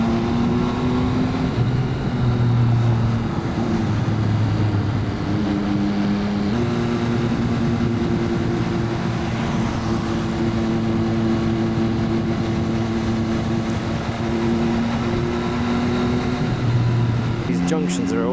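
A motorbike riding at night through the old city of Chiang Mai, Thailand, on new tires, its steady engine drone continuous and close with slight pitch shifts as it speeds up and slows, traffic noise around and a voice talking over it.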